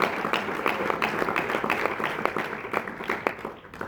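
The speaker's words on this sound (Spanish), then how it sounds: "Denle el aplauso con ganas al Señor." A church congregation applauds during a sermon with steady, dense clapping that carries on for several seconds, thinning slightly toward the end.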